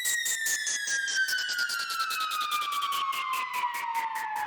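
Synthesized siren effect from a music production tutorial, a bright wailing tone sweeping steadily downward over a fast pulsing rhythmic chop, loud and continuous with no voices.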